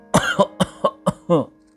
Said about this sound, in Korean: 아이고, 콜록.